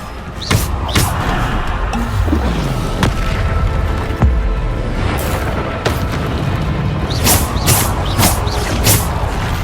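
Bombarda explosion spells in the Hogwarts Legacy video game blast repeatedly during combat, loud booming bursts with sharp crackling transients spread across several seconds amid other spell effects.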